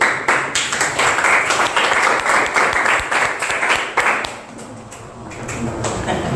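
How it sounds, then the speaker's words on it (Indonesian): A room full of people at a school presentation claps together, a dense, steady burst of applause close by that thins out slightly toward the end. "Kita beri aplaus dulu."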